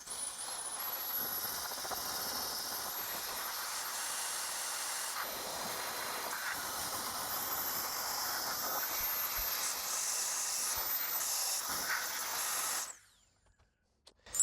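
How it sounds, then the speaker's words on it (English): A small handheld air blower dries the silicone parts of a Puffco Peak Pro, giving a steady close hiss of rushing air for about thirteen seconds that then cuts off abruptly, leaving near silence. "I'm going to use my little trusty air blower here to try and dry out the silicone some."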